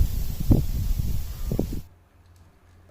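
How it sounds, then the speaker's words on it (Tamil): Paddy rice stalks in a village field rustle in the wind, a soft broadband swishing with a few brief gusts that stops abruptly partway through, leaving near silence. "இந்த காற்றுல அசைகிற சவுண்டு கேட்டால் காதுக்கு இன்னும் இயற்கையான ஒரு மியூசிக் கேட்ட மாதிரியே இருக்குது."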